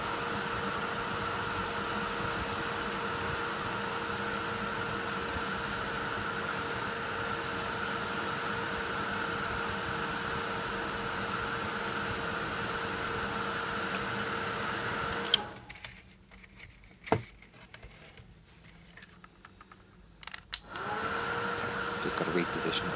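A heat tool blows a steady, loud whooshing hiss with a constant hum while melting Cosmic Shimmer embossing powders, cutting out for about five seconds with a few clicks before starting again.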